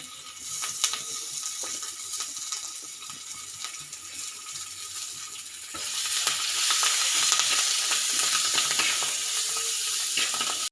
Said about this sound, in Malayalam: ഇഞ്ചി വെളുത്തുള്ളി പച്ചമുളകൊക്കെ നല്ലോണം മൂത്ത് വന്നിട്ടുണ്ട് കേട്ടോ